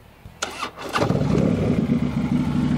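A 2012 Harley-Davidson Street Glide motorcycle cranks briefly with a couple of starter bursts, then fires up and settles into a loud, close, rumbling idle.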